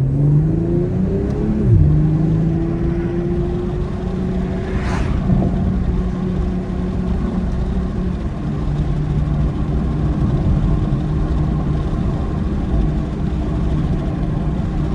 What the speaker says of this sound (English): I just want to have you guys hear the exhaust